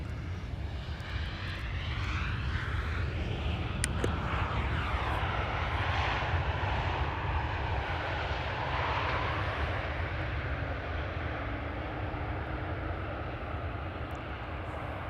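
A KLM airliner arrives at Amsterdam Schiphol Airport, a loud, steady engine roar with a broad rushing whine that sweeps downward as the aircraft passes fairly close and holds throughout.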